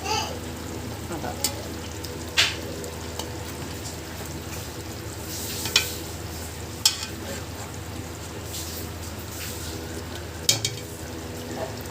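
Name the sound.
egg curry simmering and being stirred in pan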